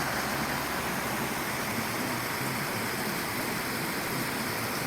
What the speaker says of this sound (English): Talking about waterfalls, here's one.